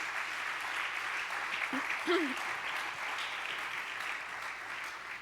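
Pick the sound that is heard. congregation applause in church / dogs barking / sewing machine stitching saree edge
congregation applause in church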